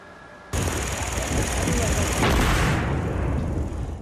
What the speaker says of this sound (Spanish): Con una explosión controlada, una brigada militar derribó los restos del puente de Baltimore